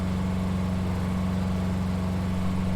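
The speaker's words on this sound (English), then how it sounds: "Little 2-cylinder, half-liter, 6-kilowatt generator" Small 2-cylinder, half-liter, 6-kilowatt diesel generator running steadily up close, an even low throbbing hum with a regular pulse and no pauses or speech.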